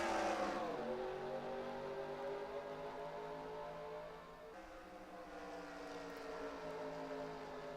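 Stock cars race at Phoenix in the NASCAR Racing 2003 video game, a pack of engines roaring together in a loud, continuous drone whose pitch climbs steadily as they accelerate down the front stretch, briefly dipping before rising again.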